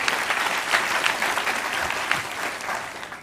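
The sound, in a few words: audience applause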